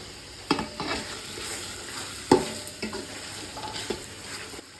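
Chopped tomatoes tossed into a hot pan for a chicken biryani, sizzling steadily while a spoon scrapes and stirs in a few distinct strokes, close and fairly loud with no talking.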